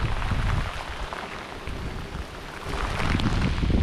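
Rain falls steadily during a big storm on the Mississippi River near La Crosse, Wisconsin, at a fishing tournament: a loud, continuous hiss with low wind rumble that eases midway and then builds again.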